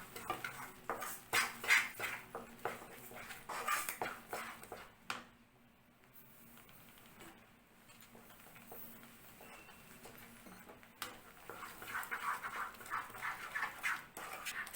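A spoon stirs rusk halwa with sugar in a pan, giving quiet, intermittent metallic scrapes and clinks with a brief lull midway before the stirring picks up again.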